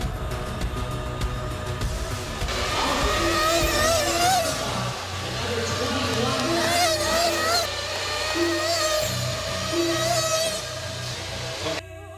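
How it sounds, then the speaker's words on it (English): A pack of about eighteen race cars howls through the first lap of a video-game race, engines droning and revving loudly together in layered whines, with a voice talking over them. "Behind him, 18 cars race for the win."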